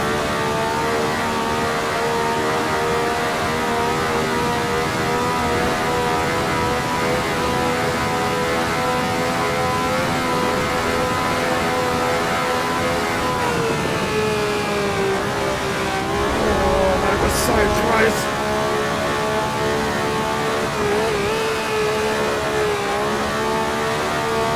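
An Eagle T1G Formula 1 car at Spa in the Grand Prix Legends racing game revs hard and continuously, its engine note rising and falling with throttle changes and a brief shift-like dip partway through, loud and steady throughout.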